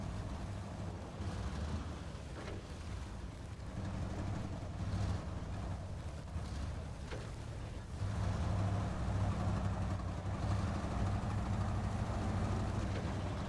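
Engine of an International 1700 Lodestar truck in the SnowRunner video game, a steady low rattling drone that swells a little louder partway through, with no talk.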